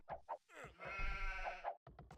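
A sheep bleats once in a drawn-out, wavering cry in the game Age of Empires, surrounded by short soft clicks and pops, quiet overall.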